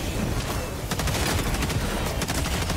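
Rapid bursts of automatic gunfire crackle in Helldivers 2, dense and loud, with several volleys fired in quick succession and nearly continuous, with no talking.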